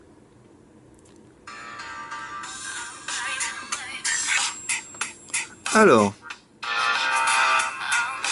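A song plays through the small built-in speaker of an Iocean X7 Elite MT6589T phone, thin and trebly, starting and stopping in bursts, while someone talks briefly over it.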